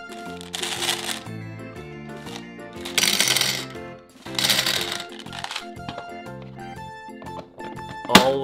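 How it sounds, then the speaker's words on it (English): Gumballs tumble into a toy blender in short bursts of bright, rattling clatter, three main pours spaced a few seconds apart, with background music playing throughout and a sharp click near the end. "Now let's throw in some gumballs."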